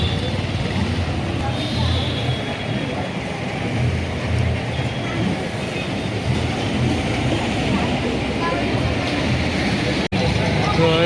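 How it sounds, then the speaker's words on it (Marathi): Train noise at Roha railway station: a loud, steady rumble and roar that runs throughout the clip, with a voice talking over it. "रोहा स्टेशन आलीच आहे इथे."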